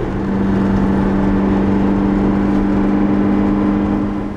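Steady mid-pitched engine hum and road rumble from inside a car on a short overlanding drive in Chile or Bolivia, continuous and fairly loud throughout with no talk.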